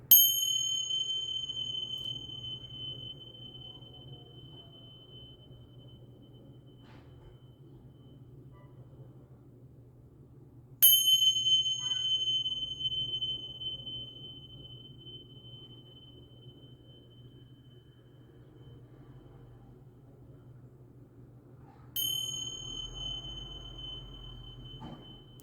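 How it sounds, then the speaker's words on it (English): A small bell rung for an energy clearing chimes three times, roughly every eleven seconds, each bright ring decaying slowly over a faint low hum in a quiet room. "I'm just gonna do a little clearing for you guys with the bells"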